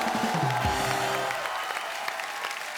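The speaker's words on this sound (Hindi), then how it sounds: "एक बार अक्षय पाजी, अभिषेक और रितेश के लिए जोरदार तालियां हो जाए।" A studio audience on an Indian television comedy show breaks into loud applause and light cheering. The clapping is dense and continuous, and a sustained tone fades out at the start.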